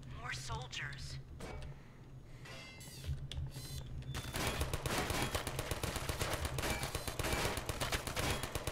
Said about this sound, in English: turret was shooting at something